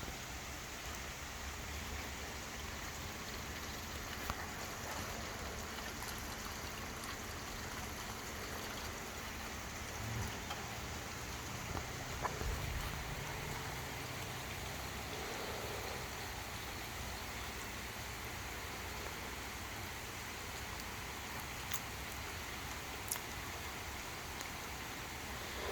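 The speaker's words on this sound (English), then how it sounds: "Actually raining fairly well right now." Steady rain falling outside a back door, a soft continuous hiss with scattered drip and splash taps, fairly heavy but distant and quiet, no voices.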